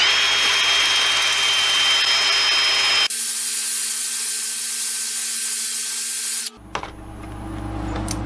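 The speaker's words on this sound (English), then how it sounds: "I'm going to use this mandrel with a little bit of 80 or 60 grit on it, and we're going to get that off of there." Sanding resin and wood on a lathe spinning around 500-600 rpm with an 80-grit mandrel, a steady loud whirring grind that shifts pitch twice as the sanding changes, then a clatter and falling hum as it tapers off.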